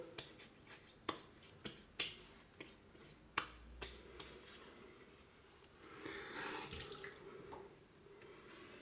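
A bathroom tap runs into a sink for a while to re-wet the face during a wet shave, preceded by a series of sharp clicks and taps, the flow rising in the latter half.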